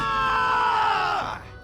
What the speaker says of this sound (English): That's a Nathaniel Howe scream right there